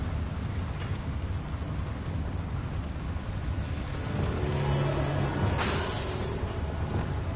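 A spell cast in the Hogwarts Legacy video game, heard as a rumbling magical burst with an explosive whoosh that swells near the end, loud and close with no talking.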